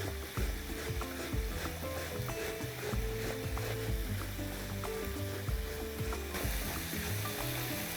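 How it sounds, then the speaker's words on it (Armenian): Medium potatoes are grated by hand on the large holes of a grater, giving a steady, rhythmic scraping rasp of repeated close strokes with no talk over it. "Կքերենք ժամանակ խնայելու համար մեծ անցքերով"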